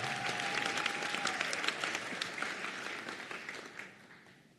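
A crowd claps for Renee, a Leadership Award recipient at a nursing graduation ceremony, in a dense, steady burst of applause that fills the hall and gradually fades out over a few seconds.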